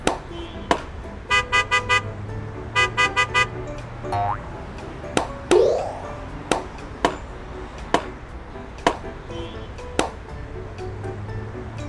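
A cartoon toy car beeps its horn in a children's vehicle-learning game: two quick sets of bright, rapid toots amid sharp clicks and springy sound effects.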